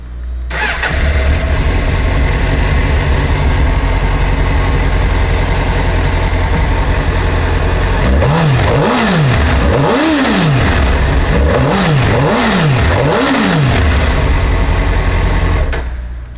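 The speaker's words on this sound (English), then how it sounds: "Go ahead and start it up here so you can hear it run." A 2003 Suzuki GSX-R600 sport bike engine cranks and fires, settling into a loud, steady close-up idle before several sharp throttle blips rise and fall in quick succession, then returning to idle.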